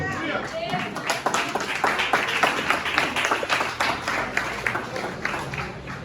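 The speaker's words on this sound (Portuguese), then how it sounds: "Pode aplaudir o Senhor," A church congregation claps, a lively burst of many hands at moderate distance with some voices mixed in, building quickly and holding steady before easing off.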